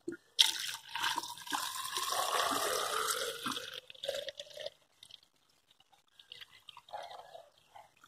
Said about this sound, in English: you can see all the water going in there